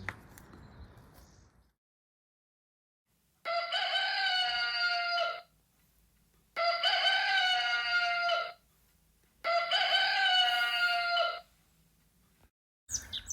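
A rooster crows three times in a row, each call long, loud and harmonically rich, with clear pauses between, set in a quiet scene that opens with faint low rustling.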